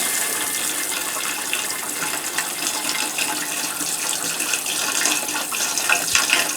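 Water running to rinse the toilet of a 2016 Eagle HT fifth-wheel RV during dewinterizing, a steady hissing flow of tap water that continues throughout with a few small clatters.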